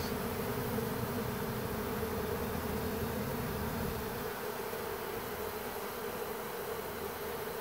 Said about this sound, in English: we've got a swarm moving into an empty box.